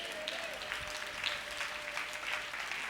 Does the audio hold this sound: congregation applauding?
yes